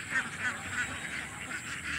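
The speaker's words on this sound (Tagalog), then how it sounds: "Mga itik o kasi klase na ay itom, na ay brown," A flock of black, brown and white domestic ducks quacking and honking together outdoors in the late afternoon, a steady overlapping chorus of calls at moderate distance with no pauses.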